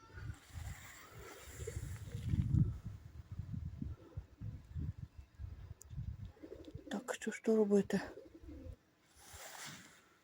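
Pigeons coo softly outdoors, low muffled calls rising and falling between stretches of someone talking nearby, with a brief louder burst toward the end.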